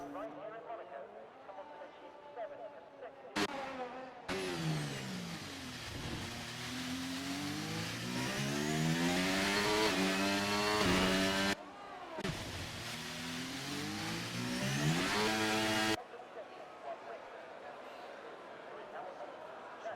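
Formula 1 race cars in a racing video game at the Monaco circuit, engines loudly revving with rising and falling whines as they accelerate and shift, broken by abrupt cuts, with commentary talk at times.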